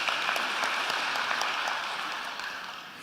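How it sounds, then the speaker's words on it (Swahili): A church congregation at a Kikuyu service applauds together, a steady, dense wash of clapping that holds at even loudness and tapers slightly toward the end, with no voices on top. "Tuwapigieni makofi tena."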